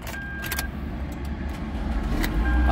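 A family pickup truck in Houston is started from inside the cab: brief key and door clicks, then the engine catches and swells into a loud, rising idle rumble nearby.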